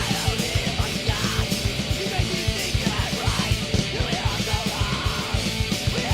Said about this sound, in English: First of all, the screamo flavor, which sounds like this.